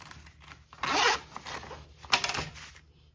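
Zipper on a sewn toiletry bag pocket pulled open and shut in several quick rasping strokes, close and fairly loud, with short pauses between pulls and no talking.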